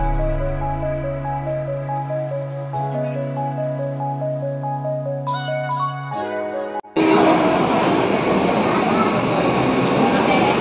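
A moving train near Kelve Road in Palghar: a steady tonal hum with shifting pitches gives way to a loud, broadband rumble of wheels and rushing air, heard from inside.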